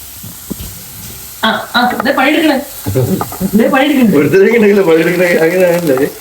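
Curry leaves and other ingredients fry in a hot pan, sizzling and crackling with stirring clatter. The frying rises from a quiet start and continues loudly, with someone talking over it.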